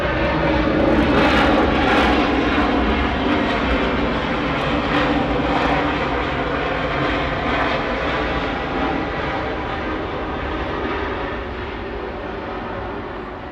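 A Southwest Airlines jet airliner, likely a 737-800, at Atlanta airport makes a loud, continuous engine rumble and whine that is strongest early and gradually fades.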